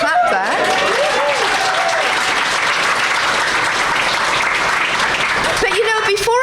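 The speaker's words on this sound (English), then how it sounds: "We're going to clap that." Audience at a crime and mystery short story awards night claps steadily and loudly, with a few voices and cheers rising through the sustained applause.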